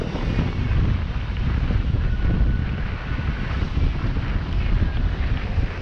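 Steady, roaring wind buffets the microphone on a sailboat crossing the Strait of Messina, with a constant low rumble and waves rushing and splashing beneath, loud and continuous throughout.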